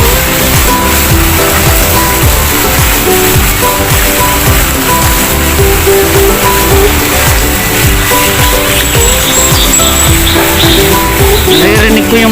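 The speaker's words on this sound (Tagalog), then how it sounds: "Naririnig ko yung mga huni ng ibon." Birds chirping among leafy trees in Wan Chai Park, Hong Kong, with faint scattered tweets under a busy wash of city noise and traffic hum; people talk nearby throughout.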